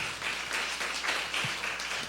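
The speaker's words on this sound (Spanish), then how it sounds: "Un aplauso para Diego, por favor." Brief burst of audience applause at a public talk about old houses, fairly soft and even, with scattered claps lasting a couple of seconds.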